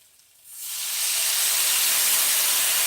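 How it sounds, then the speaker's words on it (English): Water hits a hot pan of home fries and breaks into a loud, sustained steam hiss that swells quickly and then holds steady and close. "I always add just a little bit of water to start the potatoes by steaming them"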